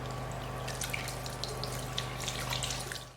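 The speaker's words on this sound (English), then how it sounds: "so let's wash our hands." Water runs steadily from a bathroom tap as hands are washed, a continuous soft hiss with faint splashes and drips, close and fairly quiet, with no talking.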